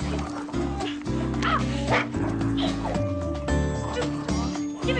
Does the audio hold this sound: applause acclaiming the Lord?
no